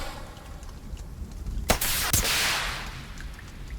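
A sniper rifle shot in the survival game The Forest, two sharp cracks close together in the middle, followed by a brief whooshing tail over quiet background.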